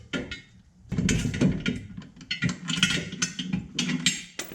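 Ratcheting wrench loosening transmission mount bolts under a Nissan 350Z, with bursts of rapid metallic clicking and clunks from the loosening hardware, close and fairly loud with short pauses.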